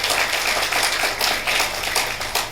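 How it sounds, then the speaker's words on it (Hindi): An audience applauds with steady, dense clapping that holds at an even level for the whole stretch, with a few louder swells. "मैं चाहूंगा जोरदार ताली हो जाए इनके बीच में"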